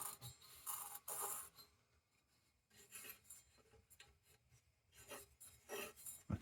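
Rasping metal-on-metal scraping as a threaded part is unscrewed by hand to get at a bulb, several short gritty bursts with brief pauses, close and fairly quiet.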